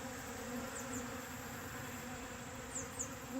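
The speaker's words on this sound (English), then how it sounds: "I'd say I have a couple bees in my garden" Honeybees hum steadily around a garden hive, a dense, continuous drone with a few individual bees whining close past.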